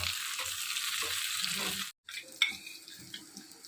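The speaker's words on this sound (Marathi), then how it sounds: "आता यात मिरच्या, लसणीच्या 4-5 पाकळ्या आणि थोडंसं आलं घालून भाजूया" Green chillies, garlic cloves and a little ginger frying in a pan for Kolhapuri misal: a dense close sizzle that cuts off briefly, then returns softer with a few clinks and stirs.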